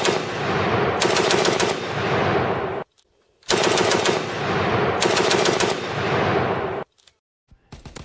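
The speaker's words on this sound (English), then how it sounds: "I'll play a soundbite of the Beretta 30 and GPMG to show you guys the difference." Beretta 30 submachine gun in Call of Duty WW2, firing two loud sustained bursts of rapid automatic fire, each about three seconds long, separated by a brief silence, with scattered clicks at the end.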